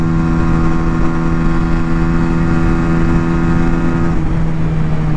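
A Yamaha Virago XV125, a 125cc V2 chopper motorcycle, cruising on the road. A steady, loud engine drone with wind rush holds throughout, with no talk.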